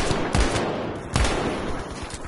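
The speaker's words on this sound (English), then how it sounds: "Killing him with a pistol." Pistol gunfire in a video game, two distinct loud shots about a second apart over steady background game noise.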